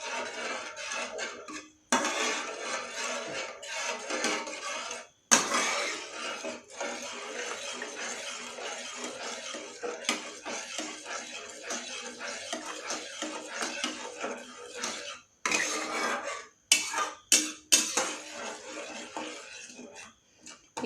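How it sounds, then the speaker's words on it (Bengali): About a cup of milk stirred continuously in a pan while making suji rasmalai, heard as soft scraping and swishing strokes of a spoon against the pan, uneven and repeating, with a few brief pauses. "এবার আমি এটাতে 1 কাপ মতো আমি দুধ দিয়ে দেব। এবার কন্টিনিউয়াসলি এটাকে আমি নাড়াতে থাকবো।"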